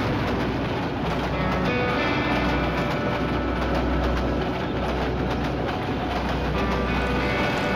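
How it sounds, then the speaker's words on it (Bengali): A train passes close by on the railway line, a loud, continuous rumble with a rhythmic clickety-clack of wheels over the rails that holds steady throughout, with no talking. "ভাই ট্রেন আসতেছে"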